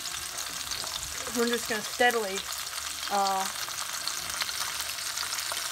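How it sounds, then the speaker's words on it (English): Big beef short ribs sizzling in a pan on a stove top, a steady crackling fry that runs under a brief stretch of speech as the ribs are turned over. "steadily flip these big short ribs"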